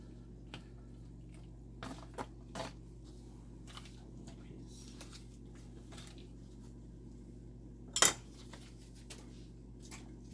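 Faint scraping and clinking of a utensil stirring noodles with butter in a baking dish, scattered soft taps with one sharper clank, over a low steady kitchen hum.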